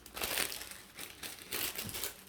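A small piece of paper is crumpled and crinkled by hand in a few quick bursts of crackling rustle, soft and close, separated by brief pauses.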